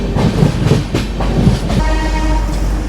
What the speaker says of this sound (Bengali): ট্রেন ছাড়লো।